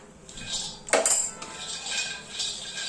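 Peanuts roasting and being stirred in a kadhai, with dry rattling and scraping of a metal spatula against the pan, including one sharper clatter, close by and without talk.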